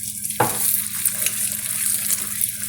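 A spoon scrapes and stirs thickening cornflour Bombay Karachi halwa in a hot pan, giving soft repeated scrapes over a steady bubbling sizzle, close and without talk.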